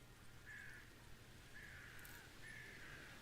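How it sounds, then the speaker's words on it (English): Crows caw noisily in Stardew Valley's Ginger Island area. Three drawn-out caws come at roughly one-second intervals, faint and distant over a low steady hum, with no voices. "Is that the birds? Holy cow, they're noisy."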